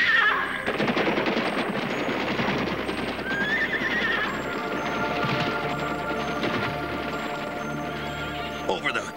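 A cartoon herd of horses neighs and whinnies over fast, dense galloping hoofbeats, with a narrating voice speaking throughout.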